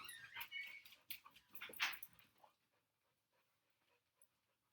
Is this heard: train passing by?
no